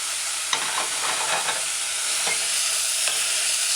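Red cabbage stew with vinegar, herbs and salt is stirred in a pot: a continuous soft sizzle and hiss with a few scraping utensil strokes at intervals, close by and with no voices.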